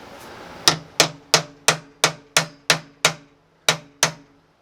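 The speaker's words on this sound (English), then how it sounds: "Let me get a deep socket and just hammer it in." Nine sharp metallic hammer strikes driving a deep socket onto a Denso starter solenoid part from a 1983 Toyota Pickup, in a steady rhythm with a short pause before the last two, each ringing briefly, close by.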